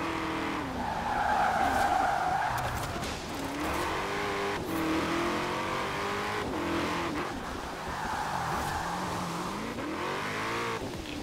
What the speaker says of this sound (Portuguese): Ele desgarra um pouco, por ele ser bem leve, ele tá desgarrando um pouco.